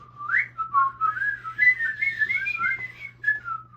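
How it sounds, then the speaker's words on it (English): A person whistles a wavering, breathy melody of short, gliding notes that rise and fall for several seconds, close and fairly clear, with no talking. "I can't whistle."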